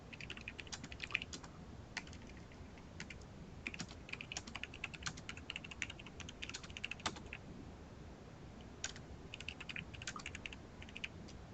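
Typing on a computer keyboard gives a steady run of quiet, close key clicks, bunched into short irregular bursts with a few brief pauses, heard alone with no talk.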